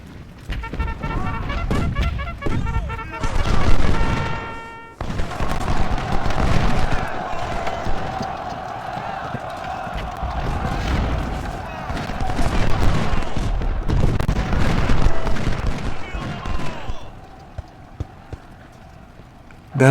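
Battlefield sounds from a Civil War-era strategy game, with rapid volleys of musket gunfire, artillery booms and galloping cavalry hooves rolling continuously in a dense, loud wash, overlaid with a steady musical drone.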